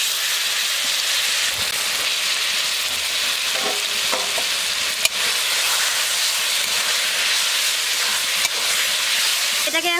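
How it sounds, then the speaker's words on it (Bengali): Taro stems dropped into hot oil tempered with cumin seeds, giving a steady, loud sizzle and hiss of frying that runs the whole time with a few brief clinks and stirring sounds. "এবার ওই ফোড়নের মধ্যে কচুটাকে দিয়ে দিচ্ছি।"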